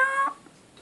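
A cat lets out a single short, high meow that fades within a fraction of a second, leaving near silence.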